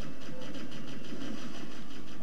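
Vehicle engine in the Halo 1 video game, a steady loud mid-pitched drone humming continuously with slight pulsing and no pauses.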